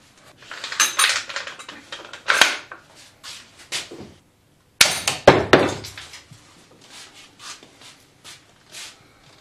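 Sharpened nail shot from a pump-action slingshot striking a coconut: a few sharp knocking impacts with clattery, metallic rattles between brief quiet gaps, close and fairly loud, no talk.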